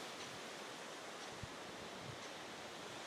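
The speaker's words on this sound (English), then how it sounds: "You can hear the waterfall as we get closer." A Bali waterfall heard from the steps leading down to it, a steady broadband rush of falling water, fairly distant and even, with no talking.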